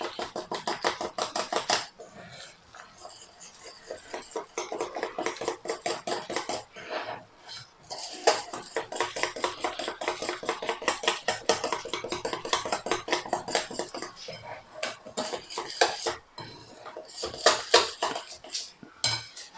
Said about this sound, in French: On continue de mélanger.